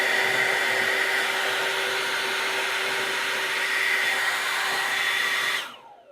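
An EGO 56V commercial 800 CFM backpack leaf blower roars steadily at full throttle with a bright, constant whine, held close and loud for several seconds before it cuts off abruptly near the end.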